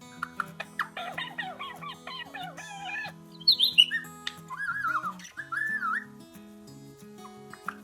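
Two pet parrots at home chirp, whistle and squawk in quick, varied bursts, close and fairly clear, with a few sharper shrill notes midway.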